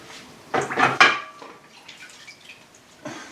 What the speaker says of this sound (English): You just have to rinse it then in water